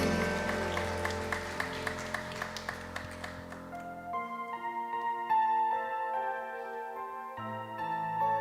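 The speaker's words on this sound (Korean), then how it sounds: "우리의 왕이신 예수 그리스도께 박수의 영광 올려드리겠습니다" A church congregation claps together during a Wednesday worship service, a steady rhythmic clapping for about four seconds over sustained keyboard and worship music that carries on alone.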